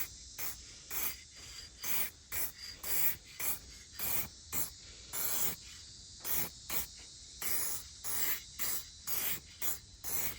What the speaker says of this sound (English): just take this stuff and just lightly mist it on